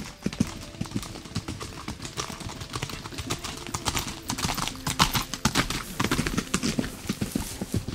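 Several horses clip-clop steadily along a mountain path as they carry ice down to the village, hooves striking close and loud in a busy overlapping rhythm, with a few birds faintly in the background.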